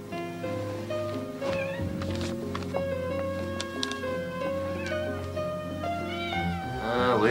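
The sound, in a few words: cats meowing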